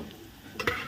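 Spices tempered in hot oil in a pan for a tamarind dish, a brief stirring clatter followed by a short crackling sizzle near the end, close and fairly quiet, with no talking.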